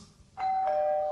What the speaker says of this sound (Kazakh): Бас, звонок бас.